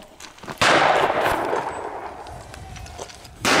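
Outdoors at a sporting clays course, a shotgun fires a single sharp, loud blast that rings out and decays over a few seconds. A second report begins just as the clip ends.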